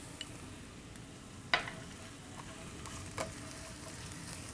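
Chunks of onion and a pinch of garlic sizzling in oil in a pan, a soft continuous fry with two brief utensil clinks as they are stirred, fairly quiet and with no voices.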